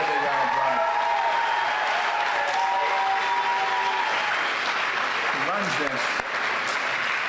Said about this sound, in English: how about we give Kate a big round of applause?